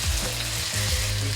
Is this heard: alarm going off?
no